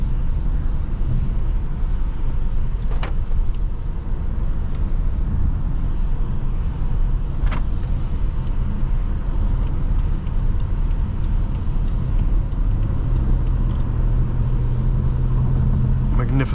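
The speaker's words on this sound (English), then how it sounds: "You just hear the purr of the V8." Low, steady rumble of a 2013 BMW 750Li xDrive's V8 cruising on a rainy, wet road, a soft continuous engine purr and tyre hiss heard from inside the cabin, with a voice talking over it throughout.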